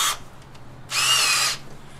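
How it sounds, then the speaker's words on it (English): A power drill whirs in one steady burst of about two-thirds of a second, close by, after a brief earlier spin, drilling into a 2011 Ford Edge to install a Filter Minder; no talking. "then we're going to go ahead and drill."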